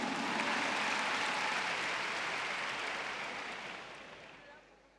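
Audience applause at a 2014 comedy show, a dense broadband clatter of many hands that holds steady, then gradually fades over the last seconds.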